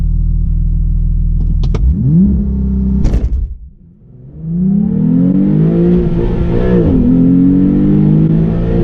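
A Porsche Carrera T launches hard from a clutch drop at about 4,000 RPM, its engine roaring loud and close as it climbs through the gears, with a brief dip in sound during a shift before pulling strongly again.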